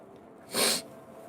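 A single sharp sneeze bursts out in the middle of a quiet room, brief and fairly loud, with near silence before and after.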